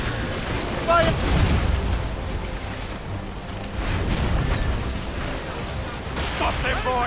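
A naval battle in Assassin's Creed Rogue brings booming ship cannon fire over surging ocean waves and wind. Several heavy blasts land among shouting voices of the crew.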